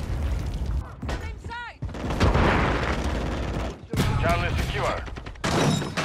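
Frag grenade blast in Call of Duty multiplayer, a loud explosion among rattling gunfire and mechanical clatter, with shouted voices and radio callouts over the fighting.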